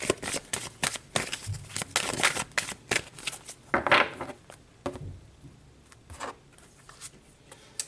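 Tarot cards are shuffled by hand in quick rhythmic bursts of riffling and slapping, close and crisp, easing into softer slides toward the end.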